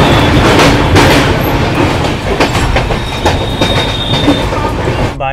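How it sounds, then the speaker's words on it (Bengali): Kanchankanya Express running on rails near Dakshineswar at night, heard from inside the coach: a continuous loud rumble with rhythmic wheel clatter and brief metallic squeals throughout. "ট্রেন কিছুক্ষণ আগেই দক্ষিণেশ্বর ক্রস করলো"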